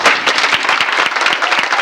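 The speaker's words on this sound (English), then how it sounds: "If you could give him a big round of applause." A crowd at a high school soccer awards banquet applauds steadily, the dense clapping loud and continuous throughout.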